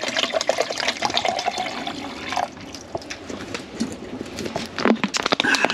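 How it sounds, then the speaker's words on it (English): Bottled water glugs and splashes into a Jetboil camping stove's cup at a winter campsite on a pontoon boat, an uneven pour with drips and bubbling, close up and moderately loud. "We're going to fill our jet boil with a bottle of water."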